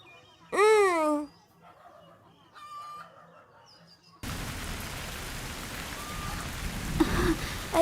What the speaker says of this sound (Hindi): अरे बारिश हो रही है, बारिश में भीगूंगी तो माँ डांटेंगी।